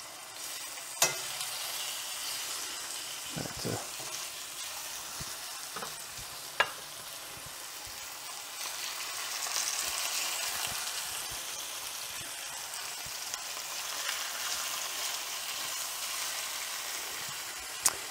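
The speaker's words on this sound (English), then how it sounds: "You want to make sure it sizzles when it hits the pan." Beef short ribs sizzle steadily in a hot pan, a constant crackling hiss with a few sharp clinks and taps of utensils along the way.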